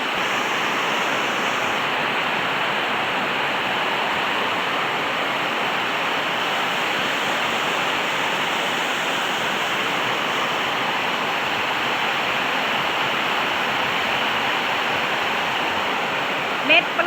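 Heavy rain falls as an unbroken, loud, close rushing roar that holds at the same level from start to finish.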